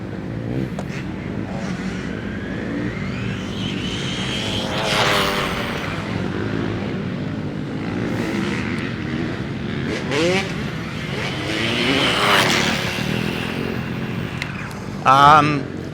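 An RLAARLO AM-X12 RC car whines and revs at top speed, the electric motor rising and falling as it passes, while people talk over it throughout.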